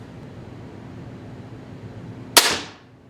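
A single sharp snap of a TenPoint Nitro XRT crossbow firing a bolt 36 inches from a chronograph, loud and close, cutting through a quiet outdoor hiss and decaying quickly.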